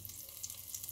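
Cheese pancakes (oladushki) fry in hot oil, giving a faint, steady hiss and crackle with no voices.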